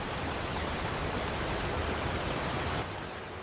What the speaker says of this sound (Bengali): প্রবল বৃষ্টির মধ্যে এর গর্জন সত্যি অসাধারণ।